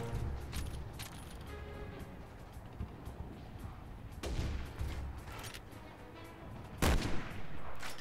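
Gunfire in the video game Resident Evil 6, several sharp shots standing out from a busy rumbling game soundscape, with a loud close burst near the end.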